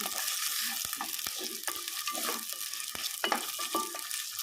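Carrot and potato pieces frying in a pan for semiya upma, a soft steady sizzle with a scattering of spoon clicks and scrapes as the vegetables are stirred, close by and without speech.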